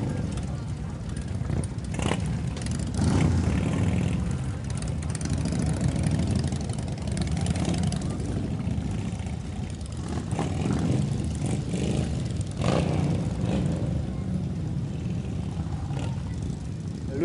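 Harley-Davidson motorcycle engines idle with a steady low rumble at a riders' group meet-up, with occasional revs rising over the drone throughout; indistinct voices appear to mix in beneath the continuous engine noise.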